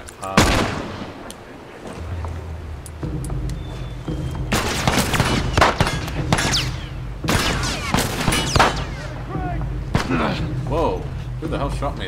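Gunfire in The Last of Us Remastered Survivor Mode, repeated sharp shots and booming blasts in irregular bursts, heard under frequent talking.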